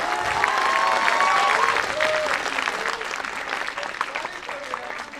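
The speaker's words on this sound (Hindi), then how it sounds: "आप तालियां बजा दो" A large audience at a poetry recital breaks into sustained applause, loud and dense at first and then gradually thinning, with faint voices mixed into the crowd noise.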